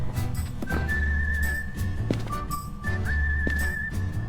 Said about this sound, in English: it's the weird whistling song again